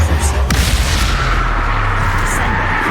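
A Bombarda blasting spell detonates in the Hogwarts Legacy video game, a loud booming blast with a sharp crack near the start, then a dense rumbling wash of sustained noise that stays loud throughout, with no voice over it.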